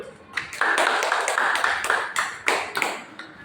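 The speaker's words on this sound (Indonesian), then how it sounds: "tepuk tangan dulu" A small classroom audience of students gives a short round of hand clapping, a few bursts of uneven claps at close range that start and stop within a few seconds.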